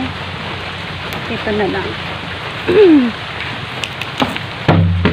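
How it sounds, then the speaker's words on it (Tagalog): Rain falls steadily outdoors, a constant close hiss of drops on surfaces, while someone talks briefly over it and a few thumps and rustles break through. "Umuulan guys."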